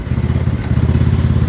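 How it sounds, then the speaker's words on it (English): An X T1 Enduro Series garden tractor engine runs steadily close by, with a fast, rhythmic low thumping and light mechanical clatter throughout. "I really love driving this tractor"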